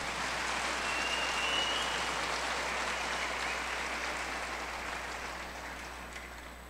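A church congregation claps for Jesus during a preacher's sermon on spiritual and financial poverty, a sustained, fairly distant roar of many hands that stays level before tapering off.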